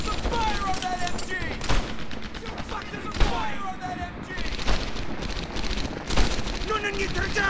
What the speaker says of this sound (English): It's the fire on that MG!